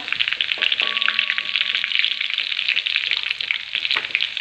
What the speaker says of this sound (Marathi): लसूण छान असा परतून घ्यायचा